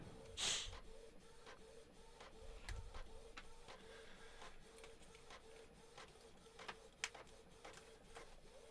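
A 3D printer runs steadily while printing a Halo Reach armor biceps part, a quiet whirring drone broken by irregular sharp ticks and clicks, with a louder bump near the start.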